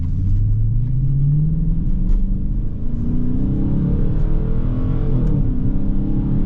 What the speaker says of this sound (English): even accelerating slowly, just revving it out, is so much fun